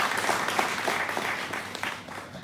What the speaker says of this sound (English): So we need to give ourselves a round of applause.